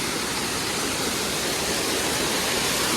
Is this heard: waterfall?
yes